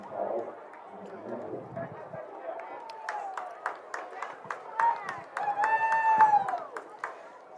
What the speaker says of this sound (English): You hear some sarcastic flag claps.